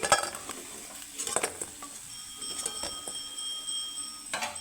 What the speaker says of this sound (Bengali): সুন্দর করে লাল লাল করে আমি ভেজে নিয়েছি এখন বড়াগুলো আমি তুলে নিব